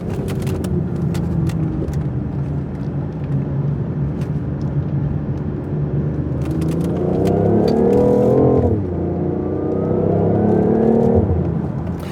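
A BMW i8 driven hard through corners, its engine and whirring drivetrain rising and falling in pitch as it accelerates out of each bend, loud and close with tyre and road noise, no talking.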